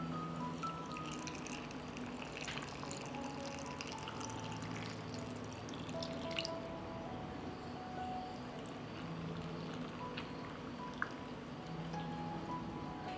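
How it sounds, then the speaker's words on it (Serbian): Water pours from close by into glass jars packed with plums and sugar for preserving, a soft, continuous trickling rush with faint drips, quiet throughout. "I sada ću u svaku teglu sipati vodu."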